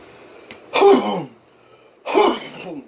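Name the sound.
throat clearing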